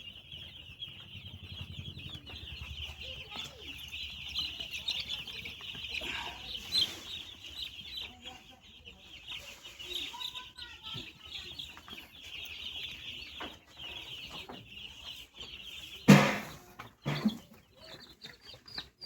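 Three-day-old Ross broiler chicks on a contract broiler farm keep up a steady, high-pitched chorus of peeping at moderate distance, with a loud burst of flapping or rustling near the end.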